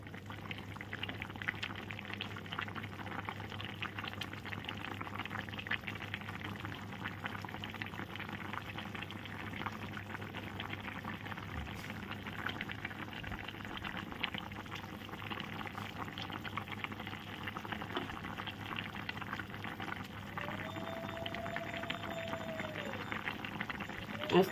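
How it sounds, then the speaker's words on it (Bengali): A pot of bottle gourd leaf curry bubbles on the stove, giving a steady, moderate simmering hiss that runs evenly throughout, with a faint low hum beneath and a brief tonal sweep near the end. "দেখো ফুটছে"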